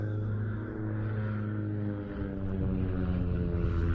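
An Extreme Decathlon aerobatic plane with a 210 hp Lycoming engine flying over an airshow display, a steady propeller drone with a slight rise and fall in pitch, moderately distant.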